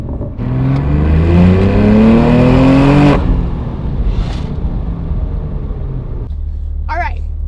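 A BMW G87 M2 fitted with a new aftermarket exhaust revs hard, its loud engine note climbing steadily for about three seconds before cutting off into a rough, rumbling idle close to the microphone.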